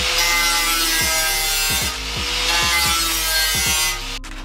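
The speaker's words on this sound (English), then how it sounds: "what I'm doing right now is I'm sanding this down just a little bit, just so that this part sits a little bit more flush with the fender" A body kit part for an Infiniti G35, a Rocket Bunny kit made for a 350Z, is sanded by hand with steady back-and-forth strokes in a loud, close rhythm, with no talk.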